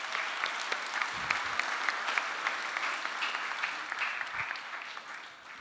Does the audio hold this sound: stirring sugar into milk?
no